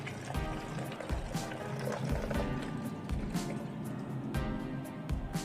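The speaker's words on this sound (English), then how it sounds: "we start pouring the wine into the bottle" Homemade beetroot wine poured through a funnel into a bottle, a continuous gurgling and trickling stream of liquid, close and steady throughout.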